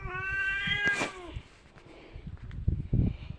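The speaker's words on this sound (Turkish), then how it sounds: "Kedilerin doğal hali. Kavga kıyamet." A cat lets out a drawn-out, wavering yowl that breaks off, followed by scuffling thumps and a few harsh hisses nearby, no speech.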